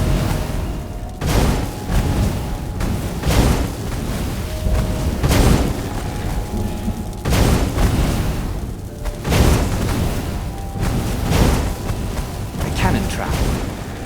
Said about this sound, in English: Who doesn't love being shot at by cannons?